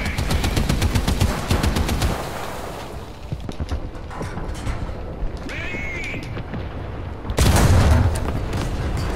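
Tank gunfire in War Thunder: rapid machine-gun rattling at the start, then scattered booms and a heavy loud blast near the end, with mechanical rumble throughout.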